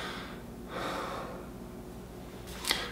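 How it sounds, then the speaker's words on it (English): Soft breathing through the nose during a meditation practice, using slow belly breaths. The faint, airy inhales and exhales are heard close up, with a brief sharper sniff near the end. "I breathe through my nose, and I also generally try and utilize belly breathing versus lung breathing"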